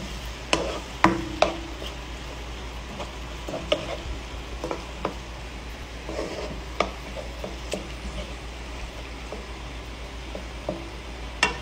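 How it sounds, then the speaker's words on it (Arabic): Tomato sauce and onion being stir-fried in a pan, with a low steady sizzle under repeated scraping strokes and sharp clicks of a utensil against the pan, close and with no talking. "الحين اضيف الصلصة مع البصل وبرضه كشنه"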